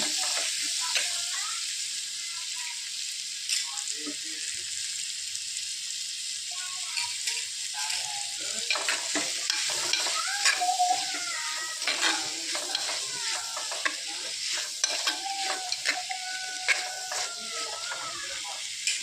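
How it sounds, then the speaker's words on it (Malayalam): Salted lemons and their liquid are stirred into a lime pickle mixture, making a steady wet hiss with intermittent spoon scrapes and clinks, close up and continuous throughout. "അതിൻ്റെ വെള്ളത്തോടു കൂടി തന്നെ നമുക്ക് ചേർത്ത് കൊടുക്കാം ചേർത്ത് കൊടുത്തിട്ട് നന്നായിട്ടൊന്ന് ഇളക്കി യോജിപ്പിക്കുക"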